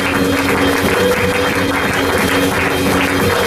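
A church congregation applauds loudly and steadily, a dense, continuous wash of clapping that holds at full strength with no pauses or talking.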